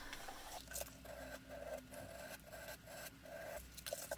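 Sandpaper rubbing over the edge of a leather gusset for a tote bag gives a run of short, even rasping strokes in a steady rhythm, quiet and close, with no talk.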